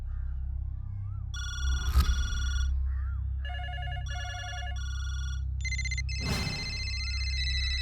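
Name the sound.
telephone ringing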